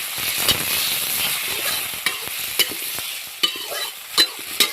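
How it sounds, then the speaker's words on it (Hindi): Tomatoes and onions fry in a pan for a ridged gourd curry, a steady close sizzle with sharp scraping clicks of a spoon stirring every second or so, no voices over it. "ये टमाटर डाल दिए हैं, अब इसको भी फ्राई कर लेंगे अच्छे से"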